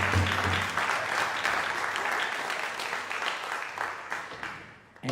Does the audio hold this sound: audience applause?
yes